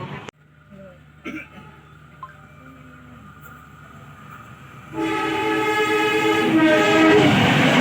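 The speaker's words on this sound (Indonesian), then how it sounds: "KA Penataran disilang dengan kereta lokal lain" A local train passes the KA Penataran at an Indonesian crossing stop, starting with quiet carriage hum and a horn, then swelling into a loud, close rumble with rattling wheels for the last few seconds.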